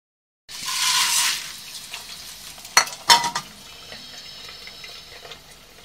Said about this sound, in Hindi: अच्छी तरह जब गरम हो जाए तब उसमें सूखे मक्के के दाने डाल देना।